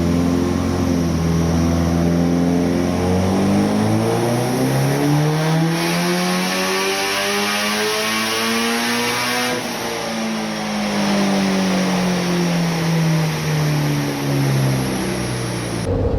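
A car engine on an all-wheel-drive dyno climbs steadily through the revs, holds high, then winds down and revs again, loud and close with no talk.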